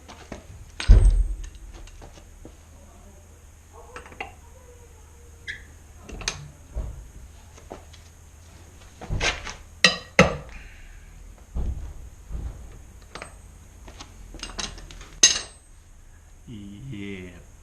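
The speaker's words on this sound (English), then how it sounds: "So now I should be able to crack that off with the, well, hopefully with the big bar" A breaker bar cracks loose the wheel hub nut on a Honda Civic EG in a garage: scattered sharp metallic clanks and clinks of tools spread throughout, with one heavy knock early on and a cluster of loud hits near the middle.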